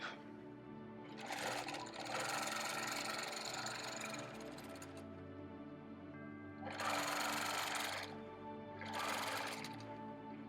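A sewing machine stitches in the ditch across a quilt with a steady mechanical whir and needle chatter. It surges in several louder bursts between quieter running stretches and is heard close up.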